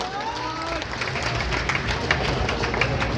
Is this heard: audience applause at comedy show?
yes